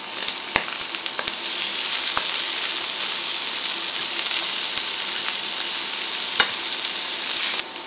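Scallops searing in a hot frying pan, a loud, dense sizzle heard up close, broken by sharp clicks and taps as a piece is flipped, then stopping abruptly near the end.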